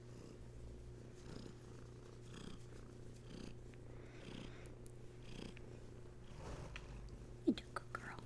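A low, steady cat purr rumbles throughout at close range, soft and continuous, with a few faint clicks and small sounds near the end.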